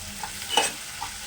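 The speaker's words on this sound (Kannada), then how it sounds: "ಈರುಳ್ಳಿ ಫ್ರೈ ಆಗಬೇಕು ಲೈಟಾಗಿ" Onions frying lightly in a pan for a bitter gourd palya, with a soft continuous sizzle and a few brief scraping stirs, one sharper clink near the middle, close and fairly quiet, no talking.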